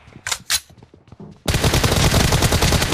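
Gunfire in a mobile shooter game: a few scattered sharp pops, then a sudden dense, continuous automatic burst, loud and close.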